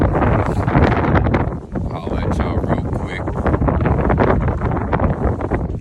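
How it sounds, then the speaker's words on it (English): Strong gusty wind buffets the microphone, rumbling loudly throughout while someone talks briefly over it. "A little windy, but it's a beautiful day."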